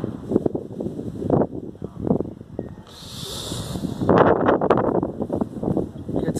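Gusty wind ahead of a strong thunderstorm in Ingolstadt buffets the microphone in rough, uneven bursts, with a brief hissing rush in the middle.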